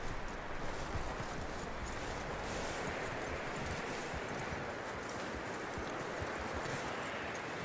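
Horse hooves clip-clop steadily in Red Dead Redemption 2, a continuous dense patter of hoofbeats blended with rustling and wind-like outdoor ambience at a fairly even, moderate loudness.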